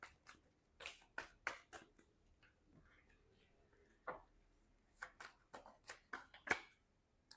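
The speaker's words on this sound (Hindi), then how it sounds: "बार बार शफल करते हुए ना कार्ड्स खुद से निकल रहे हैं बाहर" Tarot cards shuffled by hand in quick, crisp riffles and flicks, heard close and fairly soft, in irregular clusters with brief pauses between them.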